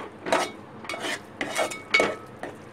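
A cook stirs vegetables together in a pot for a Maharashtrian cabbage and chana dal bhaji, making four distinct scraping, clinking strokes of a utensil against the pot at a steady rhythm. The strokes are close and moderately loud, with no talk.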